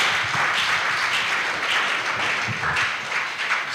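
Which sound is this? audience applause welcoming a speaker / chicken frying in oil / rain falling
audience applause welcoming a speaker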